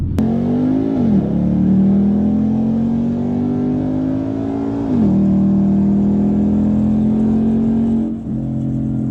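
A modified Camaro with a cam and nitrous revs and accelerates loudly up close, its deep engine drone climbing, dropping at gear shifts and climbing again, with no voices over it.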